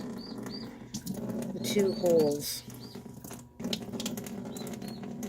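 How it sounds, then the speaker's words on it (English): A day-old turkey chick peeps faintly in the background, its high, brief calls scattered under a person talking and nearby handling and rinsing noises. "You might hear my turkey chick in the background."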